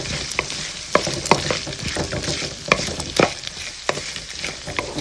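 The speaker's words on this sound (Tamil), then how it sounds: "பாருங்கள், வெங்காயம், மிளகாய் போட்டாச்சு. இது கொஞ்சம் வதங்கினதும் தக்காளி சேர்த்துக்கலாம்." Onion and chilli sauté in a pan for a brinjal chutney, with a steady close sizzle and repeated spoon scrapes and stirring knocks throughout.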